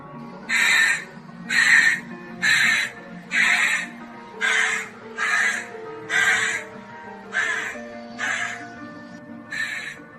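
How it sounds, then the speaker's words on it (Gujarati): A crow perched in a tree caws loudly again and again, about eleven harsh calls spaced roughly a second apart, with no voices. "કાગડો ઝાડ ઉપર બેઠો બેઠો ગાવા લાગ્યો"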